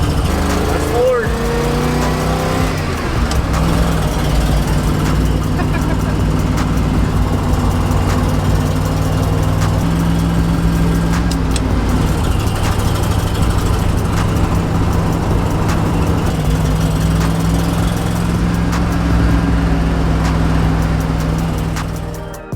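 Ford pickup truck engine idling and running steadily, a loud continuous low rumble that persists throughout with slight shifts in pitch.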